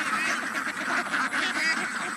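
Ducks on a duck farm quack continuously, a dense overlapping chorus of nasal calls at moderate distance, with no pauses.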